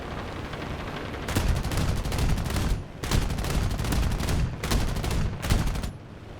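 The nose machine guns of an A-26 B-10 aircraft in War Thunder fire in three long, loud, rapid bursts separated by brief pauses, with no voices.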